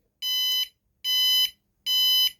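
An alarm system beeps three times in a steady rhythm as it is disarmed, each tone shrill and held about half a second, with silence between.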